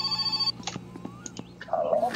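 A telephone rings inside the My Summer Car video game: bright repeated bell-like tones at the start, then scattered clicks and short electronic chirps, fairly quiet with no talking.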